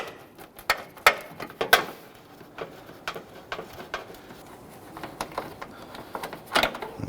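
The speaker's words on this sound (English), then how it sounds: "stubby ratchet is pretty much the only thing you're gonna fit in there" A stubby quarter-inch ratchet turning a bolt on a bumper impact absorber of a 2011-2023 Dodge Charger, giving scattered light clicking bursts, close and fairly quiet, with no talk.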